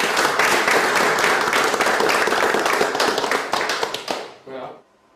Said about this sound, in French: Donc félicitations, on l'applaudit.